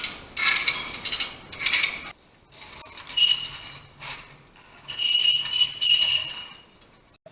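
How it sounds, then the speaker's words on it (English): Come-along ratchet hoists click in short bursts as they are cranked to lift a backhoe axle, with bright metallic ratcheting repeated in uneven strokes separated by brief pauses, close by with no talking. "we're getting the come-alongs hooked up to the axle,"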